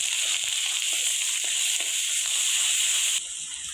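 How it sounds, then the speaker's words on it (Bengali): Onion and garlic paste with turmeric frying in a pan, a loud, close, continuous hiss of sizzling oil with faint stirring taps underneath, the sizzle dropping in level just before the end, with no voices. "ভেজে নেব"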